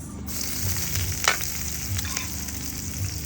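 Onion fries in a pan with a steady, close sizzle and crackle that runs the whole time, with a faint clink partway through and no talking.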